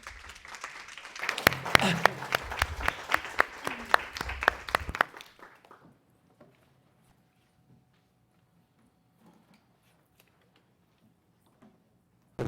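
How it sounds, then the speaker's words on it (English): An audience applauds a speaker at a talk, a burst of dense clapping for about five seconds that thins out and stops, followed by near silence with a few faint knocks. "Let's give him a round of applause."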